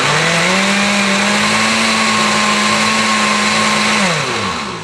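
A blender whirs steadily at close range while mixing a French vanilla protein powder shake, a loud continuous motor drone with a steady pitch that holds for about four seconds, then winds down as the motor slows.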